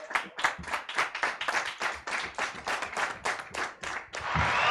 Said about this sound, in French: on va poser les micros pour vous applaudir